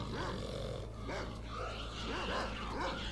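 Growls, snarls and barks from a pack of dogs fighting in S.T.A.L.K.E.R.: Call of Pripyat, a steady tangle of rough animal noise over a low droning background, moderately near.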